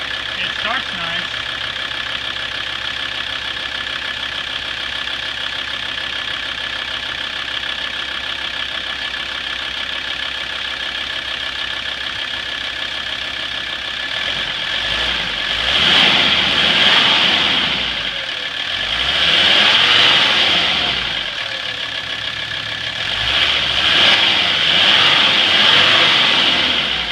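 An 1985 Mercedes 300D diesel engine idles smoothly after its fuel lines were replaced and purged, a steady close hum that swells in a few slow surges, with a person talking over part of it.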